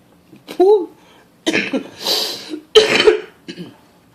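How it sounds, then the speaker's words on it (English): Several harsh coughs and throat-clearing bursts come in quick succession, close and loud, with a short vocal sound at the start. "Can't shake this cough."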